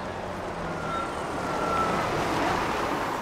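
Waves wash steadily against the Lake Michigan shore, a broad continuous surf rush mixed with wind noise, moderately loud and close, without speech.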